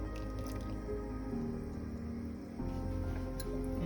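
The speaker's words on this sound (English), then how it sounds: "We are going to add that 1 cup of milk." A cup of milk pours into Sri Lankan payasam with sago pearls, making soft liquid glugs and drips over a low, continuous background.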